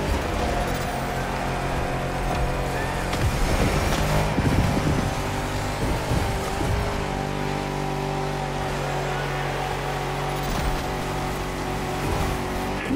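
Jeep 4x4 engine in The Crew Motorfest droning steadily through a jungle race, with gear shifts and occasional tire squeal, loud and continuous with no talk over it.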